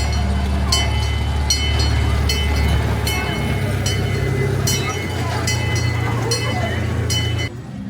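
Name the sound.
train passing through station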